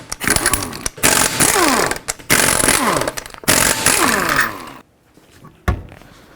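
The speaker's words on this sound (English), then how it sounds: "with a 19mm socket, take all 5 of your lug bolts off and then remove the wheel" A wheel's lug bolts come off a 2001-2007 Volvo V70 with a 19mm socket on an impact wrench, several loud rattling bursts of a second or so each, separated by short pauses, ending with a clank.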